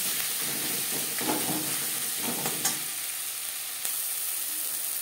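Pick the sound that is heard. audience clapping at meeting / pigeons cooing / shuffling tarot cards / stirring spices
stirring spices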